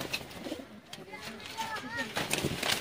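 Black-faced bateray pigeons, a 35-type breed, coo in a pigeon-sale setting, soft rolling calls repeating near the recorder while someone talks over them.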